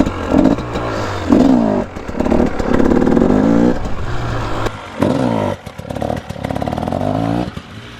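A dirt bike engine revs hard and repeatedly during wheelie practice, loud and close, surging up and dropping back in a run of throttle blips with brief gaps and some clattering.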